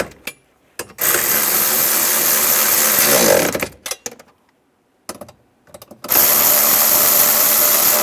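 Ratchet wrench tightening bolts while installing an EVAP core in a 2007–2013 Chevrolet Silverado, giving loud, dense bursts of rapid mechanical clicking in two long stretches separated by brief pauses and scattered clicks.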